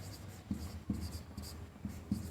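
A pen scratches across paper while a maths teacher writes out a solution by hand, giving short bursts of strokes in an uneven rhythm, close and alone with no talk.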